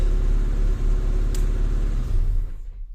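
A car engine runs at a loud, rumbling idle with a rev on the throttle, then sputters and dies, going quiet at the end.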